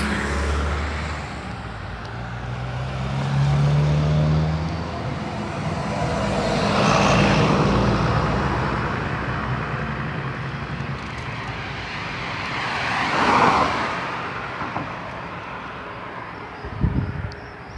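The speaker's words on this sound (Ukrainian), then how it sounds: "Ось їде автобус." A city bus rumbles along an evening street in Częstochowa, its engine swelling as it approaches and fading away, with steady traffic and outdoor ambience around it.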